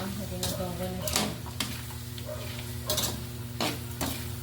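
Adobo with potatoes being stirred in a pan, a spoon scraping and clinking against the metal at irregular intervals over a steady low sizzle, close and clear, with no talking over it.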